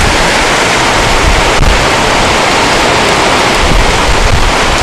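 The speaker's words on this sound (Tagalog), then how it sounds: "Ayan po, lakas ng hangin." Strong stormy wind roaring loudly and continuously during a heavy rainstorm near a gas station, a dense broadband rush that fills the whole moment without pause.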